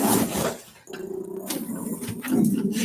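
A dog barks and growls at a projector screen in a few short, loud bursts indoors, close by, with brief pauses between.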